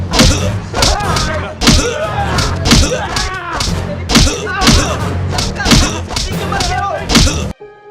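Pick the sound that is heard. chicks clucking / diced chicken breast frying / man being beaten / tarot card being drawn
man being beaten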